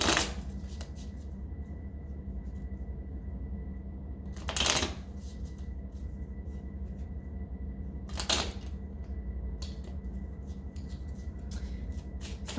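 Tarot cards are shuffled and pulled during a reading, with two brief papery riffles several seconds apart over a quiet, steady background hum.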